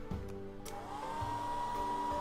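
A hairdryer at a bedroom vanity in the visual novel The Fruit of Grisaia is switched on and runs with a steady whirring drone that rises in pitch as it spins up, quiet, over background music.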